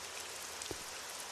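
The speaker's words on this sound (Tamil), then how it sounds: "மழை பெய்யுது" Rain falling in a Doraemon cartoon, a steady dense hiss of drops covering the whole moment, with a brief soft thump near the middle.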